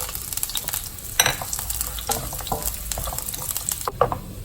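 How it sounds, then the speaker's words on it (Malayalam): Coconut pieces fry in hot coconut oil in a pan, giving a steady crackling sizzle broken by occasional louder pops and stirring scrapes, close and without speech. "എന്നിട്ട് നമ്മൾ ഈ തേങ്ങാക്കൊത്തിട്ട് വറുത്ത് മാറ്റി വയ്ക്കും."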